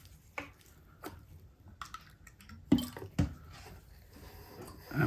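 Scrubbing with a brush and water on a Bowser 4-6-2 model steam locomotive, with scattered wet dabs, squishes and drips in irregular bursts, close and fairly quiet, with no talk.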